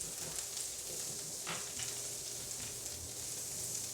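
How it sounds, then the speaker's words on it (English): Ahi tuna searing in a hot pan on high heat gives a steady, close sizzle across the whole stretch, with a brief sharper crackle partway through and no talking. "quickly sear our tuna"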